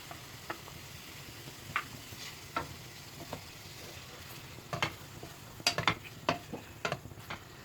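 Chicken marinade with curd being mixed in a pan, quiet wet squelching with intermittent spoon clicks and scrapes that grow busier toward the end, close but faint, no talk.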